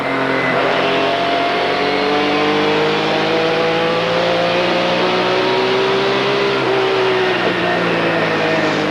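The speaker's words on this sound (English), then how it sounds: "you can just listen to where Holshausen gets off, and you can see Landis's nose dip. That means he's getting on the brakes and off the gas" A race car engine, from a 1998 ASA AC-Delco Challenge Series short-track race at LaCrosse Fair, drones loudly and steadily as the driver eases off the throttle and gets on the brakes, with overlapping engine tones shifting in pitch.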